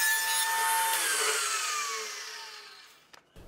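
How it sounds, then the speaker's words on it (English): Bandsaw cutting 3/4 inch cabinet grade plywood, a loud whining blade with a high rasping cut that winds down and fades over several seconds, ending with faint knocks. "I got some cabinet grade plywood, 3/4 inch, and I just butted it up against the blade so that I can cut these perfectly square."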